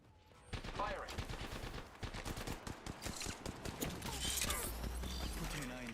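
Rapid automatic gunfire in an online battle royale shooter game, loud bursts of repeated shots crackling across several seconds with mechanical clatter between.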